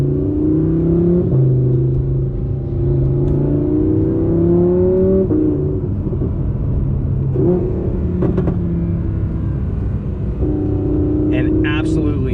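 A 2017 Vorsteiner Audi R8 driving, heard as a loud engine hum whose pitch climbs and falls with throttle and shifts. Someone talks over the steady road noise.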